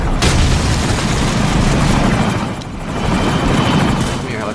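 Helicopter rotor roar in the game Call of Duty 4, loud and continuous with a dip midway, mixed with booming game effects and bursts of gunfire.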